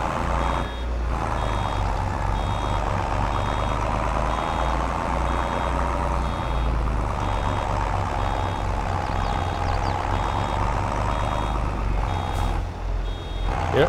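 A steady electronic reversing beep from a farm vehicle in Farming Simulator 22 repeats over a constant engine drone, with no voices.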